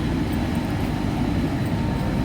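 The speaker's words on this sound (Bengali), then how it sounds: "441 কিলোমিটার পথ অতিক্রম করে আমাদের ট্রেন তার নির্ধারিত সময় থেকে 30 মিনিট লেটে এই মেচেদা স্টেশন এসে পৌঁছেছে" The Jagannath Express, travelling between Puri and Shalimar, arrives at Mecheda station. A steady, close rumble of rolling carriages fills the scene without pause, and no voices are heard.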